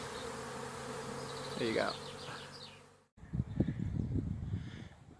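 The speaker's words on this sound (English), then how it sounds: "So bees are all around the hive" Bees swarm around a beehive in a backyard, a dense steady buzzing drone close by, with a voice speaking briefly over it before the scene cuts to a rougher stretch of buzzing.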